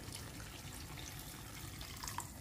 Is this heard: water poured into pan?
yes